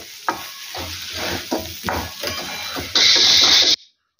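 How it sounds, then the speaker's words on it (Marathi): Steamed moth bean dal is stirred in a pan: rhythmic scraping strokes with a soft sizzle underneath, then a loud steady hiss just before the sound cuts off. "थोडं मिक्स करून घेऊया"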